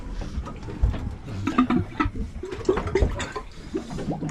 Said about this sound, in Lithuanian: Kriauklė šneka, kaip visada.